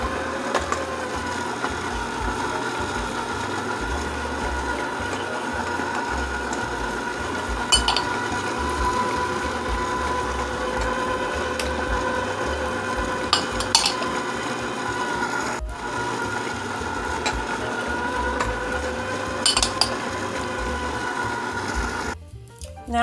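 An electric mixer whirs steadily at medium speed, beating butter cake batter, with a constant mechanical hum and faint rattling that runs unbroken until a brief clatter at the very end.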